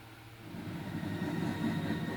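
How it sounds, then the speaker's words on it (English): Train rolling past with a steady low rumble that builds slightly in loudness, continuous broadband rail noise with no voices. "Trains."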